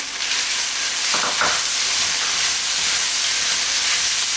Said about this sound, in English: So now I want to chuck in the ginger, chili